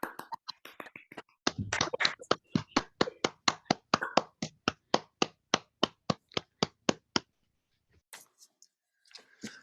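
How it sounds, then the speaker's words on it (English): Scattered claps from an online poetry launch audience after unmuting, building into a steady run of sharp, evenly spaced single claps, then fading to a few faint taps and quiet murmurs at the end. "shall we all unmute and give our applause to all the poets and for Helen for giving us that extra poet."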